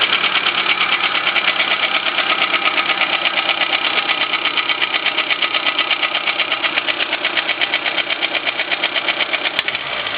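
A 1994 Suzuki Swift 1.3-liter engine runs steadily at idle, with a rapid, even mechanical ticking and a dense continuous hum held close throughout.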